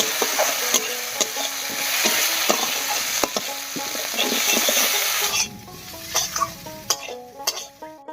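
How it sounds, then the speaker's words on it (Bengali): A spoon stirs ground dried chili and ginger-cumin spice paste into frying vegetables in a pan, scraping and clinking against the metal over a loud sizzle that quiets toward the end, leaving a few sharp taps. "মশলাটা দিয়ে একটু নাড়াচাড়া করে নিলাম।"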